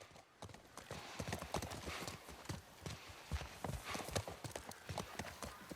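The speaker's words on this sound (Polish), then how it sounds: "O, spoko, użyjmy konia." Hooves clip-clop steadily from a horse in the video game The Last of Us Part One, an even walking rhythm over faint background noise with quiet, indistinct talk.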